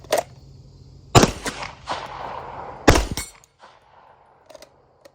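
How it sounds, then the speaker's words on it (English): Handgun shots are fired at a steel target about 50 yards away, with several sharp, loud reports spaced unevenly across a few seconds, each trailing a short ring-out and some outdoor echo. "50-yard shots, you never know when you might need to make a shot that distance with a handgun."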